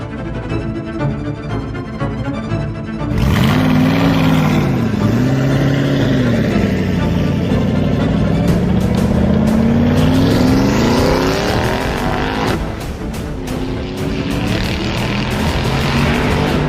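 Car pulling away after a quiet start: the engine suddenly swells loud, revving up and down through rising and falling pitch sweeps, then carries on as a strong steady drone as it drives off.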